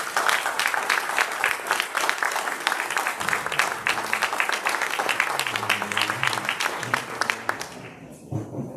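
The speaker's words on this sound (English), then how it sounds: "Round of applause, please." A room of people at a Rotary club meeting gives a lively round of applause, dense and close, with murmured voices underneath midway, before the clapping fades out at the end.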